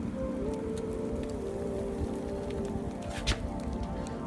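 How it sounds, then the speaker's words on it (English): Steady rain and sleet from a winter storm falling outside, a dense, even patter with occasional louder drops, continuous throughout and with no voices. "It's roughly about 6 inches of snow, wind, and rain and sleet."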